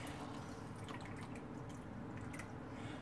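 Water trickles and drips steadily into an ice cube tray, close and continuous, with faint splashy patters on top.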